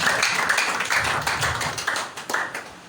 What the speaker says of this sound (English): Clap your hands for the to appreciate the Lord Jesus Christ.